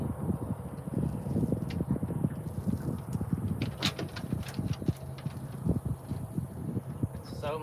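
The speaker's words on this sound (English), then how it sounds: "Now, there's a little wind." Wind gusting outdoors over a field of stringy grass, a steady low buffeting rumble against the microphone with scattered small rustles and knocks throughout.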